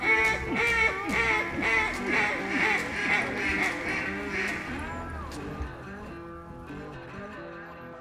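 Ducks quack in flooded timber during a Montana duck hunt, a dense, busy chorus of overlapping calls that is loudest early on and thins gradually toward the end.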